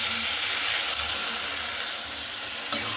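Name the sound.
water poured into frying spiced masala with potatoes and ridge gourd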